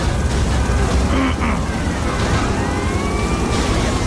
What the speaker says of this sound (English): Where did the police car come from?